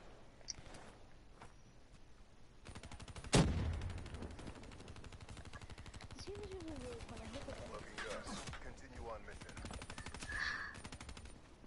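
Video game gunfire, a rapid automatic burst with a loud sharp shot among steady rattling fire, fairly faint overall with a voice speaking over it.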